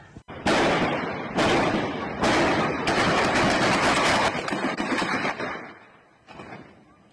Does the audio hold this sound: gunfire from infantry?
yes